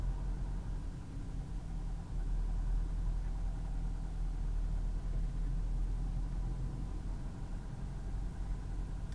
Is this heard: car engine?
yes